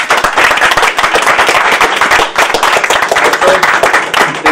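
An audience applauds at a citizen of the year award ceremony, with dense, loud, sustained clapping from many hands.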